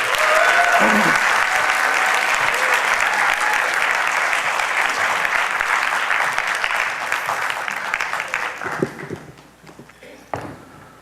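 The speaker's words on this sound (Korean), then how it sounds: "박수로 좀 맞아주시겠어요?" A church congregation at a concert worship service applauds steadily in a dense, sustained patter that thins out and fades over the last few seconds, leaving a few scattered claps.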